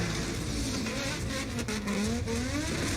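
A Nissan 350Z drifts around a car park in Lebanon, its engine revving loud and close with rising, wavering pitch and a hint of tire noise, no voices.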